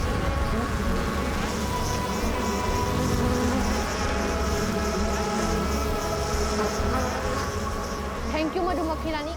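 A queen bee buzzing, a steady continuous drone that holds at a constant level for several seconds.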